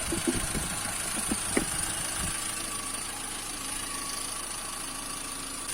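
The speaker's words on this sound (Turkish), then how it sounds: "Evet arkadaşlar fanımız da çalışıyor gördüğünüz gibi" A Hyundai Accent at idle with its radiator cooling fan running, giving a steady whooshing whir over a low engine hum and a few light knocks early on.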